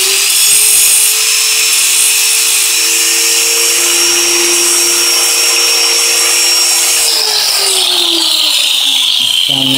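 Angle grinder (flex) cutting during electrical outlet wiring work: a loud, steady high whine that drops in pitch as the disc spins down near the end, with no talk over it.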